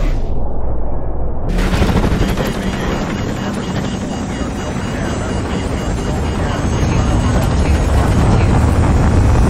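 A missile strike explodes in the Call of Duty 4 video game: after a quieter opening, a sudden heavy boom at about 1.5 seconds gives way to a loud, sustained rumble and roar that fills the rest of the scene.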